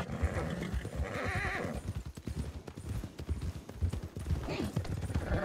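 A horse in the video game RedM clip-clops with rapid hoofbeats and lets out a whinny, while voices talk over the sounds.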